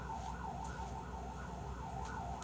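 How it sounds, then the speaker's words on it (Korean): A police or ambulance siren wails in a steady rising-and-falling cycle, muffled and distant as if heard from indoors in Incheon. "밖에 경찰차 떴어?"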